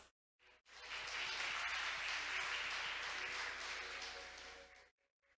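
An audience at a maritime event applauds after a presentation, sustained dense clapping that rises quickly, holds steady for about four seconds, then stops abruptly.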